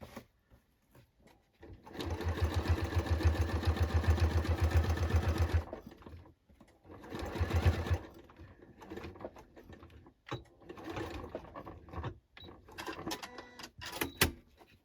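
Close sewing machine stitching a denim jacket with a stained glass window design: a long, loud run of rapid stitching, then a shorter burst, followed by scattered clicks and brief spurts of the motor.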